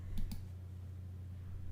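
A computer mouse clicks twice in quick succession while Adobe Photoshop CS6 is in use, faint and close against a low electrical hum, followed by quiet.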